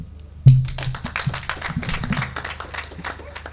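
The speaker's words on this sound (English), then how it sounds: "I think that our graduates deserve a much more thunderous hand clap." Audience applause at a university graduation ceremony, a short burst of clapping that swells after a loud thump and continues steadily over a dense crowd for a few seconds.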